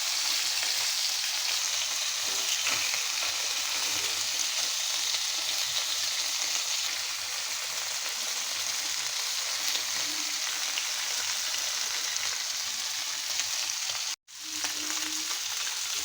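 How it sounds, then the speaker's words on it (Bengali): Steady, dense sizzling and crackling of fish frying in hot oil, continuous throughout with a brief sharp clatter near the end. "তো মাছগুলো কী করে ভাজলাম সেটা আপনাদের সাথে শেয়ার করতেছি।"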